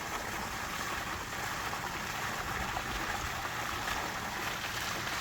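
A pond aerator geyser sprays water into a large DIY pond with a constant, loud rushing and splashing wash that keeps up without a break.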